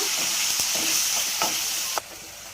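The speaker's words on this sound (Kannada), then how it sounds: "ಟೊಮೆಟೊನ ಫ್ರೈ ಮಾಡ್ಕೋಬೇಕು" Chopped tomato fries with onions in a pan, a close, continuous sizzle broken by a few scraping stirs, then cutting off abruptly near the end.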